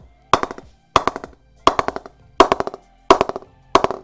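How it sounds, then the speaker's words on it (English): Taps on a Blank Bats performance laminate cricket bat, six sharp knocks at a steady interval of about two-thirds of a second, each a bright ringing crack with a short decaying buzz, close and loud with no talk. "Just tapping that up, and there's hardly any energy being transferred here into the handle."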